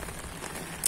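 Steady rain pours outdoors during a fishing trip, a dense even hiss close by with no talk over it.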